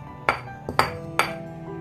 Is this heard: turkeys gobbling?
no